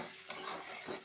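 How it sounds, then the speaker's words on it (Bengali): Chopped tomatoes with salt fry in a pan, a soft steady sizzle with faint scraping from stirring, quiet and close with no talking. "দিয়ে টমেটোগুলো একটু ভেজে নেব"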